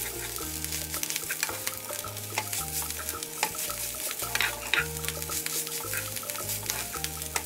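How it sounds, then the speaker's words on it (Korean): Scrambled egg and rice stir-fried together in a hot pan: a steady sizzle with repeated scraping and stirring strokes, close and fairly loud, over background music with no talking. "계란이 다 익으면 밥과 섞어 볶아줍니다"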